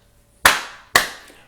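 Two sharp, loud hand claps about half a second apart ring out close by against near silence.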